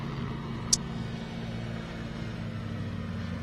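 A rally car on a special stage of Rally Hungary gives a steady, low engine rumble at a distance throughout, with one brief sharp click near the start.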